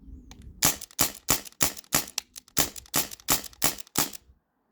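An Umarex Brodax CO2 BB revolver fires about nine crisp, snapping shots in quick, fairly even succession, close and moderately loud, each a short sharp crack.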